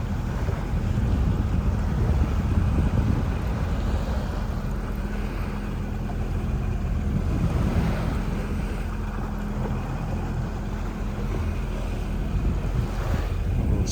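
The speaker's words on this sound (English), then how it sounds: "Waves crashing off." Surf along the Destin beach on the Gulf of Mexico at early morning, a continuous low rumble of waves washing in under heavy wind buffeting the microphone, steady and fairly loud with no voices.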